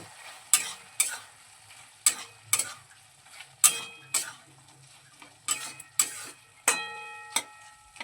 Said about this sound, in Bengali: ঘিটা তরকারির সঙ্গে খুব ভালোভাবে মিশিয়ে নেব